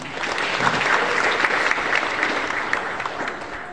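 An audience of about 200 participants at an official women's political participation event in Nabire, clapping in a dense, steady round of applause, loud and continuous throughout with no talking.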